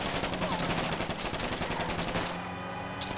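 Dense continuous automatic gunfire during a GTA Online heist mission, loud and steady for over two seconds before cutting to quieter game ambience, with no one speaking over it.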